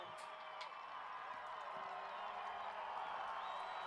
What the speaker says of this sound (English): Well, you can see the crowd and hear the crowd.